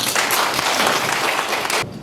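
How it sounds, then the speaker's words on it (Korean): An audience at a 2025 high school admissions and career guidance seminar applauds a lecturer onto the stage, dense, steady clapping filling the hall before it cuts off abruptly. "큰 박수로 모셔보겠습니다."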